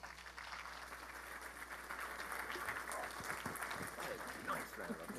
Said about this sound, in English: And this has got to be a monumentous round of applause for Lisa Larson, VP at Rackspace.